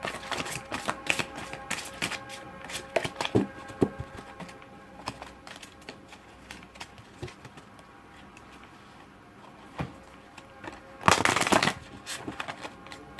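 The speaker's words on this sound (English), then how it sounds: "and I shall shuffle" A deck of cards is shuffled repeatedly, with crisp riffling clicks in bursts and a louder rapid riffle near the end.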